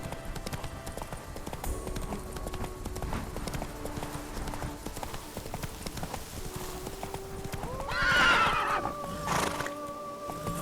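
A horse gallops in the video game The Witcher 3: Wild Hunt, with rapid rhythmic hoofbeats throughout, a loud neigh near the end and game music playing underneath.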